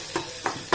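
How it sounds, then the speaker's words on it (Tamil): Small onions, finely chopped, being sautéed in oil for a chicken dish, with three soft bursts of stirring and sizzling against a quiet pan hiss. "சின்ன வெங்காயத்தை நல்லா பொடிசாக நறுக்கி அதை எண்ணெயில் வதக்கணும்"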